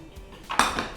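Dry-roasted cumin and fennel seeds are coarsely ground by hand in a small quantity, giving a short burst of hard clattering and clinking, close and fairly loud, with no talking.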